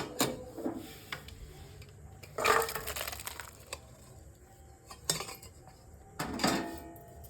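Egg tarka with garam masala stirred in a pan, giving a few separate bursts of metal scraping and clinking, each short and fairly close, with quiet gaps between them.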